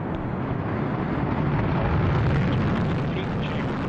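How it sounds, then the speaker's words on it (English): A Delta II rocket launching the Dawn spacecraft: a steady, dense, distant roar rumbles without a break, faintly swelling. "liftoff of the Delta II rocket with Dawn, using ion propulsion"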